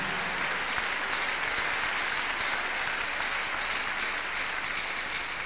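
A church congregation at a miracle service claps hands continuously, a dense steady wash of applause at even loudness throughout.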